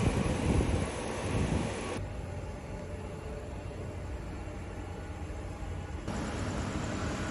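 Airport ambience with airliners, one of them a British Airways jet, at Singapore at night: a steady broadband engine roar that swells louder at the start and end, heard as continuous rumble without talk.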